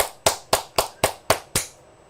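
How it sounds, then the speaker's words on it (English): Journalists clap together at a Ghanaian political event: seven sharp, evenly spaced claps about a quarter second apart, close and crisp, with no voices. "Journalists were there clapping for the answer Bawumia gave."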